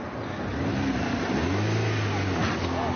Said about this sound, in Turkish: Taksici bu kez öfkeyle gaza bastı.